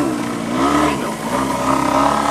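Boxer engine of a model aircraft flying aerobatics at a model flying event, a loud buzzing drone that shifts in pitch as the throttle and distance change.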